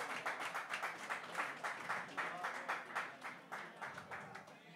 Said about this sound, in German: Großer Applaus nochmal